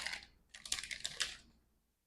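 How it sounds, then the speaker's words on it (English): Automa cards from the solo mode of the board game Between Two Castles: Essential Edition being shuffled into a face-down deck, giving short riffling and clacking bursts close by, then quiet. "I need to shuffle the Automa cards to form a face-down Roberta"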